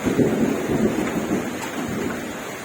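Heavy rain pours steadily in a dense, continuous hiss with a low rumbling undertone, no voices present.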